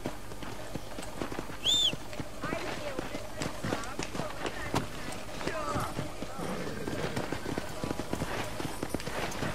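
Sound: horse galloping in video game Red Dead Redemption

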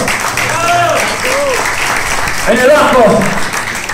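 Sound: audience applause for band members at a concert

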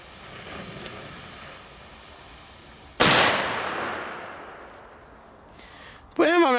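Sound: black powder firecracker exploding

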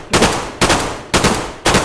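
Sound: gunfire in the video game DayZ

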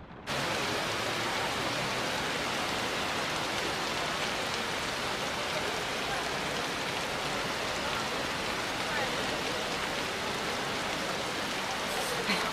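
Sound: heavy rain falling

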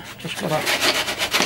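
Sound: sanding MDF wood

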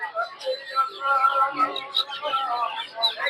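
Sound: guinea fowl chicks

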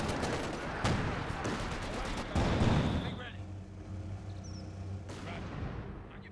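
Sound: M114 howitzer artillery barrage in video game Company of Heroes 2

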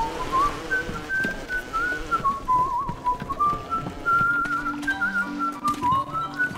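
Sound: whistling of a whistler in the video game BioShock

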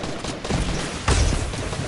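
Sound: gunfire in the Fortnite video game

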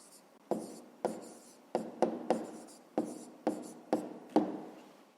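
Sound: pen writing an answer on paper

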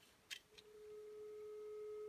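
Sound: telephone dial tone on vintage-style VoIP mobile phone

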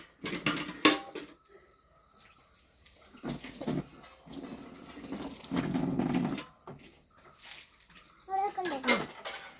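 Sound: washing utensils under tap water

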